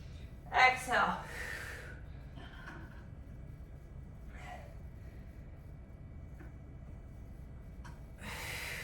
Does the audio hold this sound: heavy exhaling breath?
yes